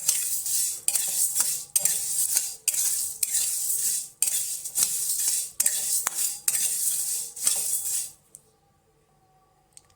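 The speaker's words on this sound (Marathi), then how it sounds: "रामपत्री आणि मेथी हे सर्व मंद आचेवर भाजून घ्यायचं आहे." Whole mace, fenugreek seeds and cardamom are stirred in a dry pan over a low flame, a metal spoon scraping in rhythmic sweeps with the seeds rattling and crackling, close and steady before stopping abruptly into near silence.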